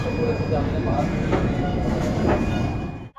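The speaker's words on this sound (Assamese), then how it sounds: "বহুত টাইম অপেক্ষা কৰাৰ পিছত আমাৰ ট্ৰেইনখন চলি গ'ল" A Rajdhani Express passenger train in a 3AC coach rumbles along steadily with a dense rattling roar and faint rhythmic clatter, heard from inside, then cuts off abruptly.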